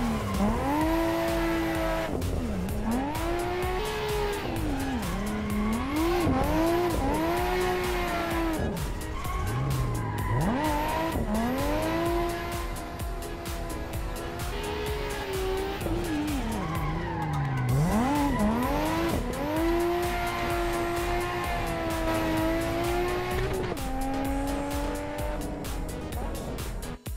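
A drifting car in the racing game Live for Speed screams its engine up and down continuously while the tires squeal through long slides, loud and unbroken for nearly half a minute.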